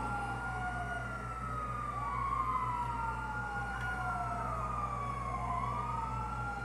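Police sirens wail in GTA V as cars chase the player, rising and falling tones sweeping repeatedly over a steady engine drone, moderately distant and without talk.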